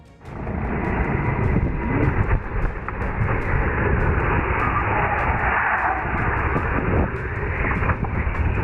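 A helicopter tries to land and crashes, heard as a loud continuous engine and rotor roar that fills the whole stretch, with a brief dip near the end and no talk.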